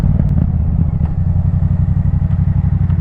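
A 2024 Yamaha MT-07 motorcycle engine pulls at low revs while riding, giving a loud, close, throbbing rumble with a rapid pulsing beat. No one speaks.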